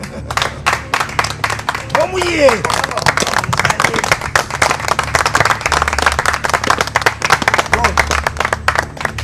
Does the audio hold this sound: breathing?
no